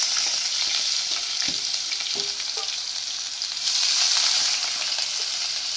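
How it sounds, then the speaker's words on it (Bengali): Sliced onion frying in a pan with split dried red chillies, a continuous bright sizzle that swells louder midway, with faint scraping stirs and no talking. "পেঁয়াজটাকে ভালো করে ভেজে নেব।"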